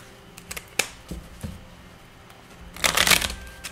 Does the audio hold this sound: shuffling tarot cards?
yes